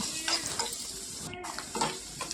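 Green chilies and onion pieces fry in hot oil for a shark fish curry, a steady close sizzle broken by scraping stirs and a brief clatter of a spoon against the pan.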